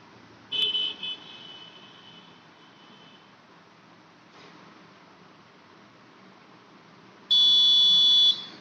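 A buzzer in an ultrasonic sensor relay circuit beeps in a shrill steady tone, first in a short burst, then after a quiet stretch in a louder sustained beep.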